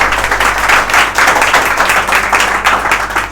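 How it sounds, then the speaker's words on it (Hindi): A group of children clapping loudly in bursts during an online class, a dense ragged patter with a low steady hum underneath. "तो सभी बच्चे बेटा एक बार जोरदार तालियां करें सरकार के लिए।"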